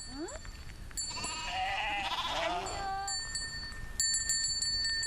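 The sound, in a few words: Alpine goats bleating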